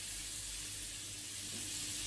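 Butter, about two tablespoons, sizzling in a hot pan on the stove before chicken is fried, a steady soft hiss that holds evenly throughout, quiet and close with no talking.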